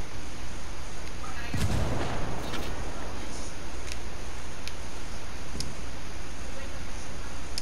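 Gunfire in the video game Ghost Wars: a sharp, heavy blast early on, then scattered ticking shots over a steady rumble of background noise, with voices speaking throughout.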